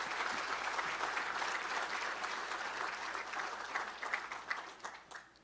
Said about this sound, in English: if we can give a big round of applause for athletic directors